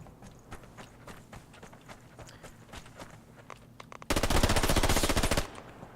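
Gunfire in a Fear the Wolves gunfight: scattered rapid shots and footsteps, then a loud, sustained automatic burst of over a second before it stops abruptly.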